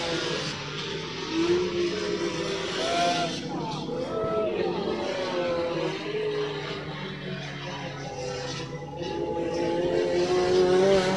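Paraná Turismo touring race car sweeping past on the main straight, its engine a steady loud drone that swells and fades slightly, with commentary running over it throughout.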